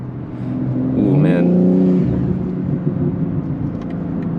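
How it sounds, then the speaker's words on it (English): A BMW G80 M3 accelerates on the road, its engine note rising in a brief loud surge before easing back to a steady drone, with the driver's voice over it. "man, this car is so much fun to drive"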